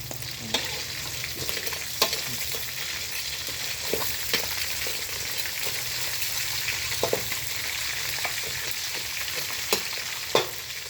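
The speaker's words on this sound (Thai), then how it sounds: "เราก็จะทอดไข่ดาวด้วยพี่น้องเลย" Eggs and garlic frying in hot oil make a steady, loud sizzle, broken by repeated clicks and scrapes of a utensil stirring the pan; no talking.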